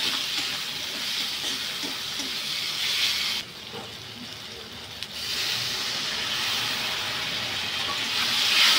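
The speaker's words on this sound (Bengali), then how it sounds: "অল্প একটুখানি জল দিয়ে আবারও আমি ভালো করে কষে নেব।" Masala and spices sizzle and hiss steadily in a hot frying pan as they are stirred and sautéed, a continuous close frying sound with a brief quieter dip midway.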